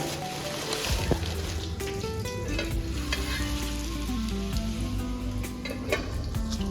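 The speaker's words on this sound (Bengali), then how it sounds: "আলু ভাজা চলছে।" Potatoes frying in a pan, a dense continuous sizzle with intermittent stirring scrapes and clatters, close and steady throughout.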